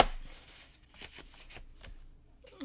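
Paper being trimmed for small handmade gift journal pages, a run of soft crisp cuts and rustling strokes, close and fairly quiet.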